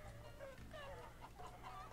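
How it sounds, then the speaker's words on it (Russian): Chickens clucking in an epic battle simulator video game, a quiet run of low clucks and squawks over a steady game backdrop, with no one talking. "И видите, просто курицы летят на них."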